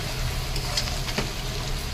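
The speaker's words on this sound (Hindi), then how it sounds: "इसको हम मिक्स करते हुए गोल्डन ब्राउन फ्राई करेंगे" Onions frying golden brown in a pan for Bengali mutton curry, a steady close sizzle with occasional stirring scrapes and no talk.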